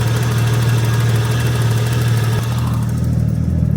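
A Nissan Skyline R34 engine idles with a low, uneven rumble that rises and dips slightly in a surging rhythm, close and steady throughout.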